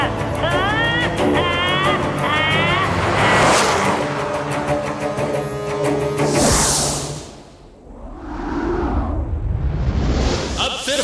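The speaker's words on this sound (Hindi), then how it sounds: "सभी कारें एक दूसरे को ओवरटेक करती हुई मॉडर्न सिटी के अंदर एंटर करती हैं और स्पीड से सारी कारें मॉडर्न सिटी को क्रॉस कर रही हैं" Racing cars speed through a modern city, overtaking one another, with loud engine roars and whooshing pass-bys layered under music and voices, then a quieter dip before the engines swell again.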